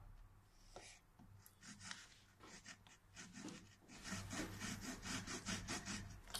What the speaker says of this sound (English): this is the standard knife. Cutting through the cork.